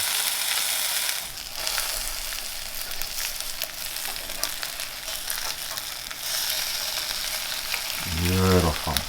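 An egg fries in a pan as part of a fridge-leftovers burger, giving a steady broadband sizzle with occasional scraping and a brief clattering at the end.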